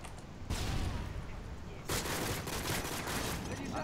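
Gunfire in a Call of Duty Modern Warfare 2 multiplayer match: two loud bursts of sustained shooting, the second starting after a short pause, with crackling echoes and a faint voice underneath.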